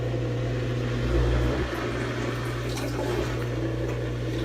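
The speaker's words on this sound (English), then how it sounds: "Sounds like a decent motor for the" Compact KUPPET twin tub portable mini washing machine draining water, its pump motor humming steadily under a continuous rush of flowing water, close and constant.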